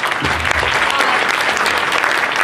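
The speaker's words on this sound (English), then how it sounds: "round of applause" A tech meetup audience applauds in a dense, sustained burst of many hands clapping together, loud and full throughout with a faint murmur of voices underneath.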